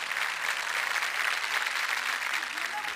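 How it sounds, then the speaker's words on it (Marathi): An audience at the Lavasa MIFTA awards ceremony applauds loudly, with a dense, even clapping that holds steady the whole time and no pauses. "एकदा जोरदार टाळ्या"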